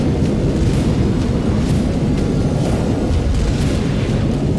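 Phosphorus bombs bursting in wartime footage, heard as a dense, continuous low rumble of booms and blasts with no clear gaps, loud and steady throughout, like distant heavy bombardment rolling together.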